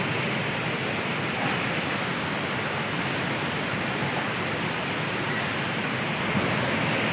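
Rain-fed waterfall at Harishankar pours in a continuous broadband roar, loud and unbroken, with no voices over the rushing water.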